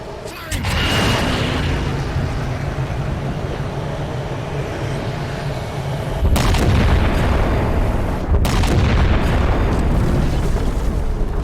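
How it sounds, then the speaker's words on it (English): A heavy weapon fires in a Halo 4 game cutscene, delivering sustained booming, roaring blasts with two sharp louder surges midway, a dense rumbling wall of sound with voices faintly underneath. "Target locked. Firing."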